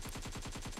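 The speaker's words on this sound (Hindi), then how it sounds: "फिर कुछ लोग AK-47 लेकर एक बुढ़िया को सोफा पे बैठे बैठे भून देते हैं।" Rapid AK-47 automatic fire in an animated scene, a steady burst of about eight evenly spaced shots, loud and close with no talking.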